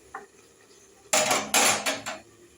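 A metal lid goes onto a cooking pot of simmering food: a brief faint tap, then a loud clattering rattle in several quick bursts as it settles, close by.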